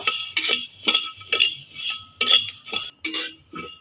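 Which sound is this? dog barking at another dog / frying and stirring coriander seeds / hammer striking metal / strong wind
frying and stirring coriander seeds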